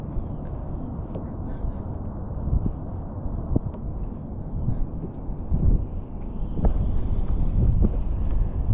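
Wind on the water while fishing for crappie and bass, a low steady rumbling buffet on the microphone with gusting swells and a few faint knocks, with no voices.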